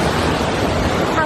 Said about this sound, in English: And then behind me is the amazing waterfall.